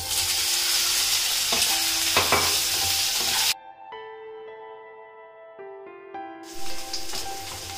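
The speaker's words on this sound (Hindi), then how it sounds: "इसमें आलू को हल्का सा भून लेंगे।" Potatoes frying in about two tablespoons of oil in a hot kadai, giving a loud bright sizzle that stops abruptly midway, leaving a ringing tonal hum before the frying hiss returns.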